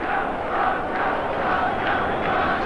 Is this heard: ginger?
no